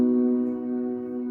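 A sustained piano chord, the second chord of the worship song Yeshua, rings clearly with stacked harmonic tones, holding steady and slowly decaying for just over a second with no voice over it.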